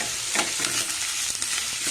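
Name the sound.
onions frying in a pan for tomato curry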